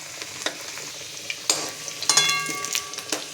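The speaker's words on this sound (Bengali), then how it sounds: "আলুগুলো হালকা করে ভেজে নেবো, আর একটুখানি ভাজবো।" Potatoes fry lightly in oil in a wok, a soft sizzle broken by sharp scrapes and clinks of a spatula stirring against the pan, no voices.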